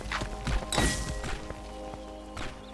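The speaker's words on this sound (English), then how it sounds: "if I want to, I can trigger all these explosions very easily" Landmine explosions set off in the VR game Rumble, a few quick thudding bangs packed into the first second, followed by quieter rumbling knocks that fade out.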